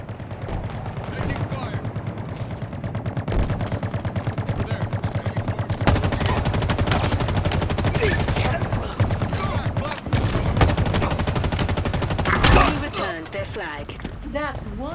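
Video game gunfire in Halo Infinite crackles in fast repeated bursts and single shots over a busy match, with in-game voices and effects mixed in.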